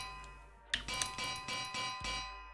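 Bells in the Minecraft video game ring around a house, several bright dings in quick succession with a lingering resonant shimmer, fairly faint and alone.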